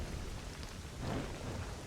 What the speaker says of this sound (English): Although it'd be nicer if it wasn't raining